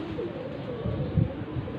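A pigeon coos softly a couple of times, low and muffled, against a faint background hum.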